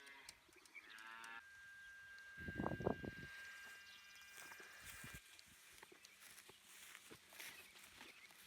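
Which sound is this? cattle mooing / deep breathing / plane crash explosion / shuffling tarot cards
cattle mooing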